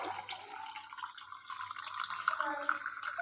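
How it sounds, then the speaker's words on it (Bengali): Hot water trickles into a container of soaked chia seeds, a faint, continuous close pour with small splashy drips throughout. "গরম জল মিশিয়ে নেবো চিয়া সিটের মধ্যে"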